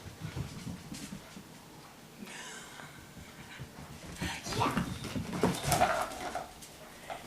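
A King Charles Cavalier and Poodle mix puppy pants and whimpers softly at close range, with people talking over it throughout.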